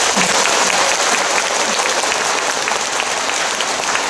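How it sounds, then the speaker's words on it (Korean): A loud, packed burst of applause closes a 2024 entrance ceremony at Ilsung girls' middle and high school, a thick uninterrupted roar of many hands clapping at once that stays strong from start to finish. "이상으로 2024학년도 일성여자 중고등학교 입학식을 다 같이 큰 박수로 마치겠습니다"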